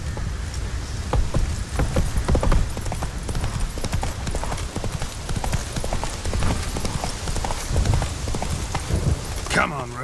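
Hooves of Roach, a horse in The Witcher 3, clip-clop at a quick, steady gallop over a rain-like patter, with a voice urging the horse on and a short shout near the end.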